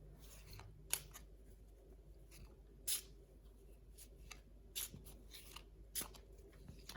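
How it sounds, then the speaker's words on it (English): Cards Against Humanity cards being shuffled up close in a quiet room: sparse, crisp flicks and taps spaced a second or so apart, soft and intimate. "So I'm just going to shuffle these cards."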